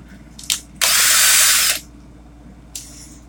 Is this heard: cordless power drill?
yes